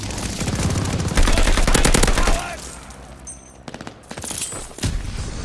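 Gunfire in a Call of Duty: Vanguard multiplayer Hardpoint match, with dense rapid automatic bursts and overlapping shots that are loud at first, then a quieter stretch and further sharp volleys.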